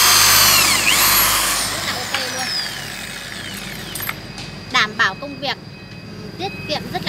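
A cordless drill flaring copper pipe whines loudly at the start, then winds down and stops, leaving a quieter stretch with a few knocks and handling clicks.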